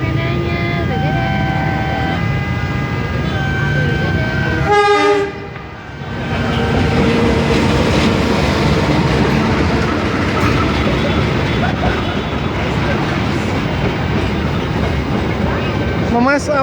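Train passing a busy Malioboro level crossing in Yogyakarta in the late afternoon, with a horn blast and a steady loud rumble of wagons rolling by, over crowd noise and traffic.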